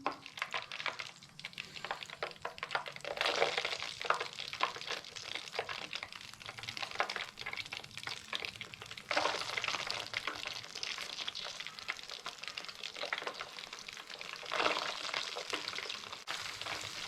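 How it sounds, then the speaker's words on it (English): Chicken pieces for Jaffna fried chicken go into hotter oil for a quicker second fry, giving a soft, continuous bubbling sizzle that swells in a few louder surges, fairly quiet and with no speech. "let's get a second fry going"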